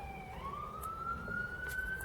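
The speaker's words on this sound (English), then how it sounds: "Cue the sirens." A distant siren wails faintly with a single rising sweep that holds at a steady pitch, sounding thin and far off.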